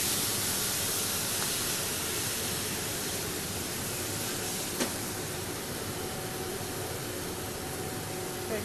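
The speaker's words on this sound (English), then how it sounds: "We're going to deglaze with a little wine." Wine hitting a hot pan of garlic and fennel gives a steady broadband sizzle and hiss throughout, with no talk.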